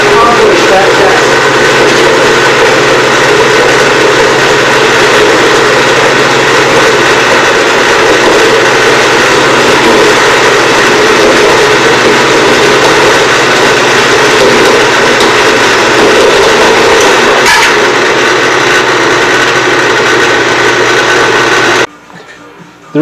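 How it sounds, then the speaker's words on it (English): A bandsaw cuts through the bronze sprue of a cast hammerhead, making a sustained loud grinding whir that holds steady for about twenty seconds before stopping abruptly. "We use our bandsaw to accomplish that task."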